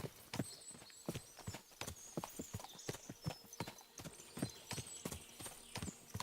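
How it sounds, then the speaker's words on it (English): Horses' hooves clip-clop steadily in Kingdom Come: Deliverance II, several animals walking in a quick, overlapping rhythm at moderate distance, with a faint whinny-like tone threading above the steps. "What a lot of horses."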